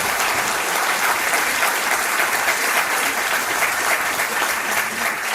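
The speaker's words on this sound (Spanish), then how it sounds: "Pido un aplauso para él" Audience applause welcoming a guest to a table on a talk show, a dense steady burst of clapping that carries on for several seconds without any voices.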